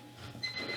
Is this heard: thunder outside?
no